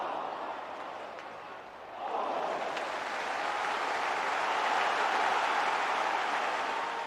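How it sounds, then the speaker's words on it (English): At Tynecastle during Hearts v Motherwell, a football crowd breaks into a round of applause, rising from a low stadium murmur into broad, sustained clapping that holds steady at a distance. "the early scenes earning a round of applause"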